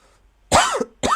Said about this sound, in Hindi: खांसी बहुत आने लगी